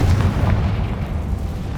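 A Confringo spell detonates in the Hogwarts Legacy video game, giving a deep, rumbling boom that rolls on steadily with no voices over it.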